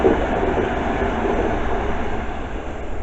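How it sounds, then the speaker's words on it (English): A London Underground Metropolitan line train to Aldgate arrives at Dollis Hill station, its low, steady rail rumble filling the platform continuously and fairly close, with no voices. "Here she comes, the Met Line to Aldgate."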